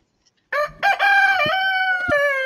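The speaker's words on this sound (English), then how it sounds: "that's how to get up to a nice morning cockerel." A cockerel lets out a loud, close cock-a-doodle-doo, starting with a couple of short rising notes before one long sustained, strained crow, with no talk over it.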